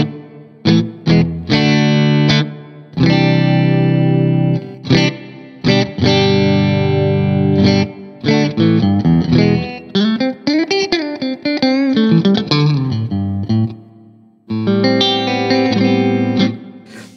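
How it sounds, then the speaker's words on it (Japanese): Electric guitar played through a Strymon Cloudburst reverb pedal with its tone control turned right down, giving a dark, muffled ambient wash; loud strummed chords and picked phrases with short gaps, sustained reverb tails, no talking. "トーンを絞って こう影のようにリバーブを使いたい時とかに音をこもらせると逆にいいですよね"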